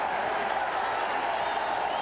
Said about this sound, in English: The big crowd excited about this one.